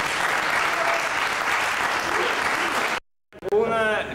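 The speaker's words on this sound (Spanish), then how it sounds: "un aplauso." Loud, dense applause from a concert audience after a live performance, about three seconds, cutting off abruptly before a brief burst of voices.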